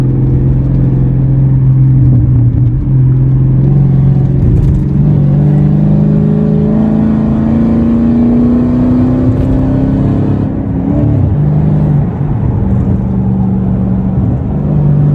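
A Dodge Challenger SRT 392 Scat Pack with a Hemi V8 drones loudly from close by. The exhaust note climbs steadily in pitch as the engine revs up, then drops and settles back. No one speaks.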